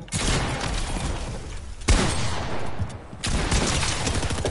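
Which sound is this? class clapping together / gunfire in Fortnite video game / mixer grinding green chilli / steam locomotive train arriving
gunfire in Fortnite video game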